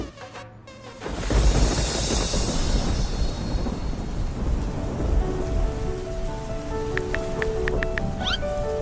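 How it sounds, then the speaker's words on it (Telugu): A thunderstorm with heavy rain: a loud rumble of thunder breaks in early, then a thick, steady roar of rainfall carries on, with faint tonal sounds appearing near the end. "వర్షం పడుతుంది కదా"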